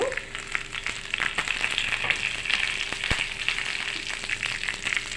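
Curry leaves hit hot oil already crackling with cumin and mustard seeds, giving a steady close sizzle with sharp pops and spits scattered through it, with no talking.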